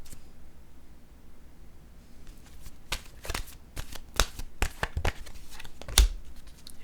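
Tarot cards are shuffled by hand in a run of sharp, close riffling snaps that start after a quiet opening, come in quick bursts and end with a firm tap, with no voices.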